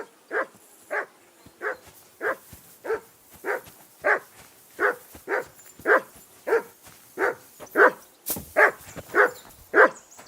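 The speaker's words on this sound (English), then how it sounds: "Whistle at that mutt of yours to stop barking!" A dog in the Kingdom Come: Deliverance II game barks repeatedly in a steady rhythm, about fifteen evenly spaced barks at moderate distance over ten seconds, with no talk.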